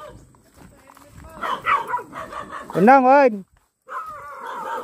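Dogs bark close by along a rural road through a forest in San Andres, mixed in with people talking and shouting nearby.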